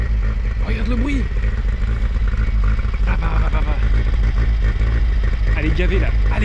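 Peugeot 205 GL petrol engine revving hard as the car spins its tyre in a 360, a rough mid-pitched roar with rising and falling revs and clatter, under excited talking nearby.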